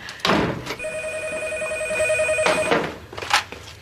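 An indoor telephone rings with a long electronic tone lasting about two seconds, bracketed by sharp knocks or thumps before and after, loud and close, with no one speaking.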